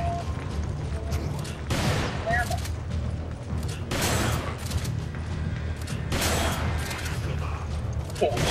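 Gunshots in the video game Resident Evil 5 come as a few loud bursts separated by calmer stretches, set against steady background game noise, with voices talking over it.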